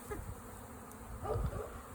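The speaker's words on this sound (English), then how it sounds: "enjoy the little sweet bees" A honeybee swarm hums steadily and close while being brushed into a hive, a continuous low buzzing that swells slightly midway.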